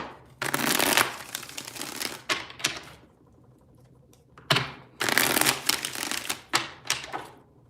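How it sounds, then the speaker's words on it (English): Tarot cards shuffled by hand in several bursts, crisp riffling and flapping clatters with short pauses between rounds, close and fairly loud, no speech. "Three more shuffles here."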